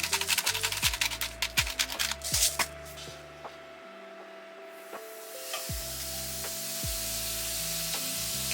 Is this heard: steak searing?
yes